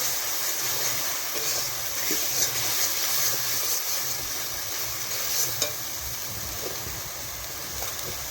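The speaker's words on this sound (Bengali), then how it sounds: "দিয়ে দিচ্ছি পরিমাণ মতো লবণ এবং ভালো করে ভেজে নিব মশলাটাকে" Spice paste with turmeric and salt fries and is stirred in a pan for a Bengali ritha fish curry, giving a steady broadband sizzle with scraping stirs and small crackles, continuous and fairly close, with no talking.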